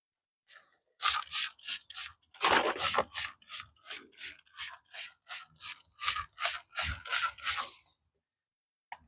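A hand pump weed killer sprayer spraying, a rapid series of short, sharp pumping strokes, close and fairly loud, ticking along in a steady rhythm with a brief pause near the start.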